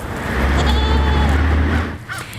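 Goat bleating on a Green Mountains farm, one long wavering bleat close by over a low rumbling background, then fading.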